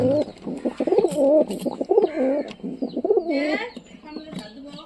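Pigeons coo repeatedly in soft, throaty rolling phrases, fairly close, with a few chirps and light rustling mixed in.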